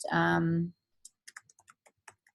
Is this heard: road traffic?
no